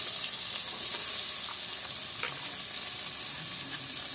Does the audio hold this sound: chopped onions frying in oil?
yes